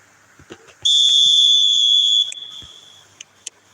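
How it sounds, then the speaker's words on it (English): A referee's whistle opens an eFootball match, one long shrill blast of over a second, loud and clear, with faint crowd ambience and small knocks around it. "There's the whistle, and here we go."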